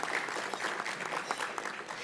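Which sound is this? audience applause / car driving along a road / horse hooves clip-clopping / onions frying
audience applause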